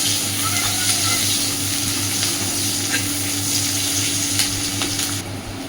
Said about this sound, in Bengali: জাস্ট কালার চেঞ্জ হওয়া পর্যন্ত পেঁয়াজটাকে ভাজবো, খুব বেশি কড়া করে ভাজবো না